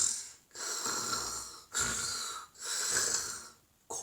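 A human voice imitates snoring: four slow, rhythmic rasping breaths, each separated by a brief pause, close and fairly quiet with no other talk.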